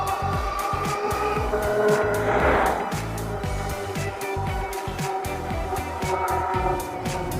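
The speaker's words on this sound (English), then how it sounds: "can hear that thing taking off on me. I pedal twice and it goes." An APEX 50 electric bike surges forward on a Southern California ride, its motor whining and rising in pitch over steady, close road and wind noise.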